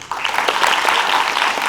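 An audience at an education talk gives a brief, steady burst of applause, dense and fairly loud, with no speech over it.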